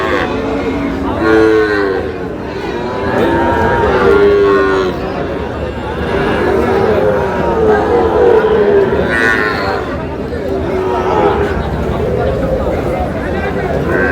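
Cattle moo repeatedly at a cattle market in Kushtia, Bangladesh, loud and nearby, long drawn-out lows overlapping against a murmuring crowd in the background.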